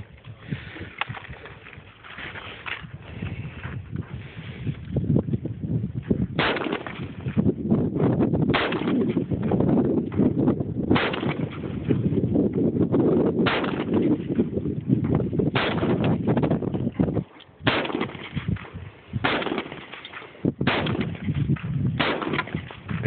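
An AR-15 rifle fired outdoors, a long string of sharp, loud shots spaced irregularly over about twenty seconds, some in quick pairs, with brief pauses between, heard close with a muffled, band-limited quality.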